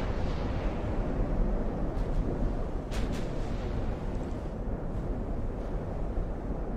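Ships in Ultimate Admiral: Dreadnoughts exchange naval gunfire, giving a continuous low, booming rumble with a few sharper distant cracks standing out over the roar, and no one speaking.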